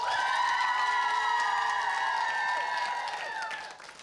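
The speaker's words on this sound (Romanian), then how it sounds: "Aplauze pentru echipa verde." A children's TV show audience claps and cheers for the green team, loud and sustained under bright ringing tones, then tapering off near the end.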